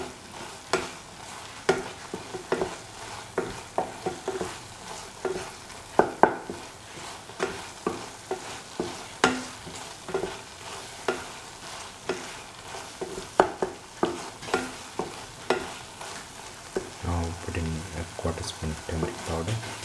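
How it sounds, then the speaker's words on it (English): Salt being mixed into a spinach, lentil and coconut milk stew in a pot: a steady run of soft scraping spoon strokes with a faint bubbling simmer beneath, the stirring turning denser and smoother near the end. "Mix the salt with the other ingredients."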